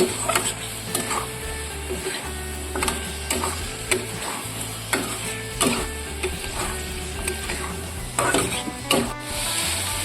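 Egg curry masala frying in oil in a pan while a spoon stirs it, giving a constant sizzle broken by repeated scraping and clicking strokes, with no voices.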